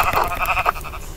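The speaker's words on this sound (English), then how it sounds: "Hey, sheep, come back here." A sheep bleats in a blocky survival game, one short wavering bleat close by, fairly clear and alone.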